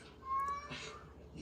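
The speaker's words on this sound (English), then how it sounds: "he's in there meowing away." House cat meowing indoors, one short rising meow that fades, followed by faint background noise and a low steady hum.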